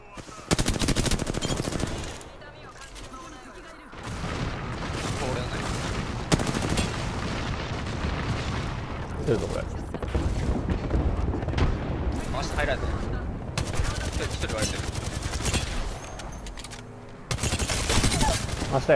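Rapid automatic gunfire crackles in an online shooter match, loud bursts with short pauses between volleys and a brief lull near the start, while players talk over it.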